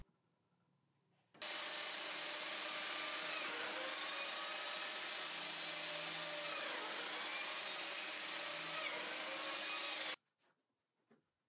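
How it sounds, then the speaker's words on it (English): Biscuit joiner cutting slots into wood panels for a blanket chest, a steady high-pitched whine with rough cutting noise that runs continuously for about nine seconds, then stops abruptly. "Once the biscuit slots were cut,"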